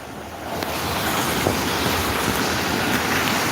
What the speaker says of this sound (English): It's been raining non-stop for like